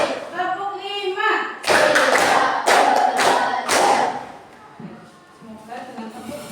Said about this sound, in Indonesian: Supaya semangat kita tepuk dulu ya.